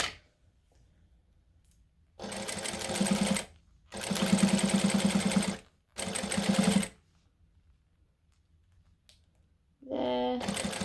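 A sewing machine runs in three bursts of steady, rapid stitching, attaching four pieces before the rivets go in, separated by quiet pauses, with a brief mechanical click and a short whir near the end.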